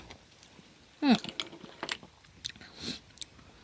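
Crunchy boiled field snails being chewed up close, a sharp bite followed by a few softer crunching and chewing sounds, quiet and without talk.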